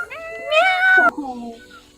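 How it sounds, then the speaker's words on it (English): A cat in the video game Enderal gives two drawn-out meows up close, the second dropping in pitch and trailing off, with a voice speaking faintly around them. "I heard kitty"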